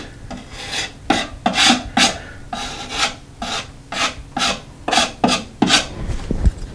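Short, rough scraping strokes come in a steady rhythm as excess spackle is cleaned off a wall around a patched towel ring spot. The strokes are close, loud and raspy, with no talk.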